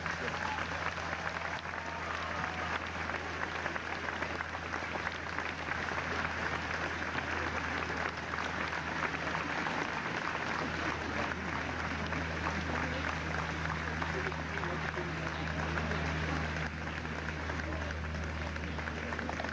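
Sustained applause from a graduation ceremony audience at a 2001 college commencement, a dense, steady wash of clapping that fills the whole stretch at full strength with a low hum underneath.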